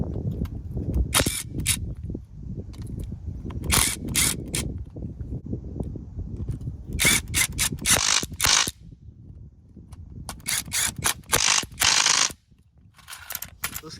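A Hyper Tough 12V brushless impact driver runs in several loud, close bursts of rapid hammering, separated by short pauses and quieter stretches.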